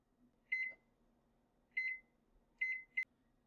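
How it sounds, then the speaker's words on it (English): A microwave oven heating pasta with cheese gives three short electronic beep pairs followed by a sharp click, clear and isolated over a faint hum. "you pop it in the microwave for about a minute for the cheese to melt"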